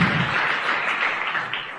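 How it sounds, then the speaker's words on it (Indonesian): Audience applause for a woman being honoured at a motivational seminar, a dense and steady clatter of many hands clapping at once, sustained and fairly loud for the whole moment. "Tepuk tangan buat Ibu Nayunda"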